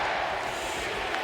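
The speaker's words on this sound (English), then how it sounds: "the crowd chanting for Columbus." A hockey arena crowd at an NHL game between the Edmonton Oilers and Columbus Blue Jackets chants for Columbus, a dense, steady roar of many voices filling the whole moment.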